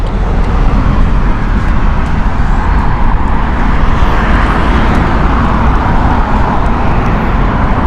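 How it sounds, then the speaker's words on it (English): An Airbus A320neo jet from Malta roars loudly and steadily close by, its broad engine noise filling the whole stretch without a break or any voices. "This is Airbus A320neo from Malta."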